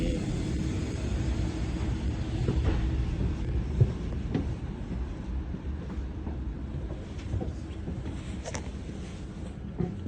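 A steady low rumble from aboard a train arriving at a station in Genoa, Italy, rolling continuously with faint clanks and rattles, no speech.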